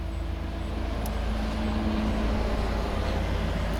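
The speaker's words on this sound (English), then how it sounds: "There's a loud truck." A loud truck passing close by on the road, a heavy, steady low rumble that stays strong for the whole few seconds with no quiet gaps.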